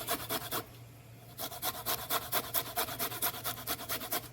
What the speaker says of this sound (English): Just grate this ginger real fine.